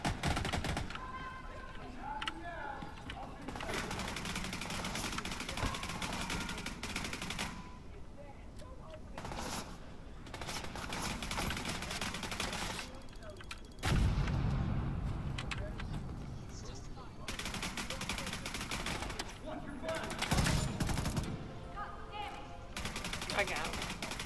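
Gunfire in the video game Division 2 crackles in repeated bursts, rapid automatic fire with heavier booms around the middle, layered over game ambience while a player talks.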